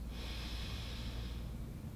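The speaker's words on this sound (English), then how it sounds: "Inhale." A deep inhale during a yoga breathing exercise, drawn steadily and audibly through the nose for about two seconds, close and quiet, with no talking.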